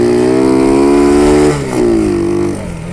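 A fully loaded 10-horsepower motorcycle on thin tyres labours through sand in a dried-out riverbed, its engine droning loud and close with a sustained strained note that dips and falls briefly, then rises again before easing off.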